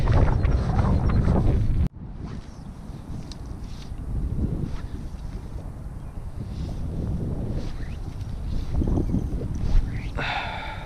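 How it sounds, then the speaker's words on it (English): Wind buffets a microphone outdoors during evening fly fishing for spring striped bass, a steady low rumble that runs the whole time with a sharp drop near the start, close and fairly loud, with no talking. "wind's dying down"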